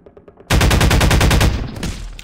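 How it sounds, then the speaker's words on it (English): Loud, sustained automatic gunfire from Half-Life 2 VR, a rapid burst erupting suddenly and hammering continuously for about a second before tapering into trailing shots and echoes. "Okay, I guess I have to shoot this one."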